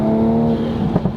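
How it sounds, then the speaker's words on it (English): A Nissan Silvia PS13 with sport mode engaged pulls under acceleration, a steady droning engine tone giving way near the end to a few short fluttering turbo chuffs over the exhaust note, loud and close from inside the car. "A little bit of turbo flutter, bit of an exhaust note."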